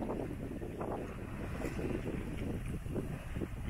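Constant wind buffeting and rushing water around a sailboat under sail on a close-hauled coastal cruise off the Mediterranean coast near Menton, a steady broadband whoosh with no voices.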